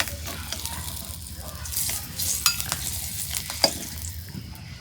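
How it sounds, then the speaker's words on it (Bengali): Eggs frying in hot oil give a steady soft sizzle, with occasional light clinks of a utensil against the pan. "ডিম ভাজা হয়েছে, এখন আমি নামি নেই"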